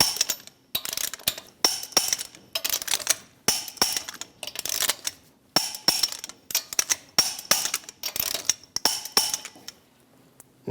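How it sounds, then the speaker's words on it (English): Repeated ratcheting clicks from a torque wrench with a 22mm socket tightening lug nuts on a Chevrolet Express 2500 wheel, a series of close metallic bursts separated by short pauses. "Using a 22mm socket, we're going to torque the lug nuts to 140 foot-pounds in a star pattern."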